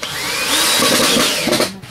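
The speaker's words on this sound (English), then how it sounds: "I'm going to run the drill, or the screw I have in the back" A power drill whirs steadily up close as it drives a screw into a skull for mounting, the motor's pitch shifting slightly before it stops.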